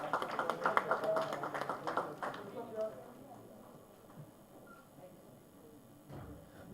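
Audience applause for a speaker at a food industry panel discussion, a burst of many hands clapping that fades out after about two seconds, with a brief scattered clap later and a voice speaking at the end.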